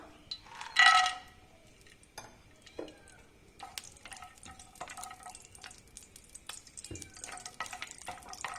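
Cashew nuts crackle faintly in hot ghee, with sparse pops and light drips. A sharp clatter sounds near the start, and scattered utensil taps follow.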